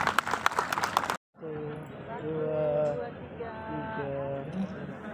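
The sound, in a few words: audience applause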